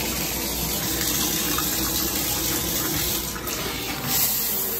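Steady broadband rush of running water, like a shower spraying continuously, fairly loud and close with no talking.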